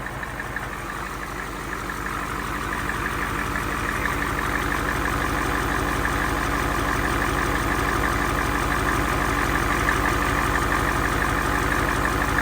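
A diesel truck engine running on used motor oil idles steadily, a close, even low chugging rumble that holds constant and grows slightly louder over the span, with no voices.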